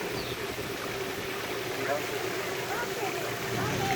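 A waterfall pours steadily into a swimming spot, a constant, close broadband rush of falling and churning water with no pauses.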